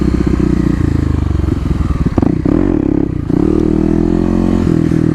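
A Kawasaki KLX250 dirt bike revving hard as the rider lifts the front wheel, a loud close engine drone that rises and dips with throttle changes and some clatter, with no voices.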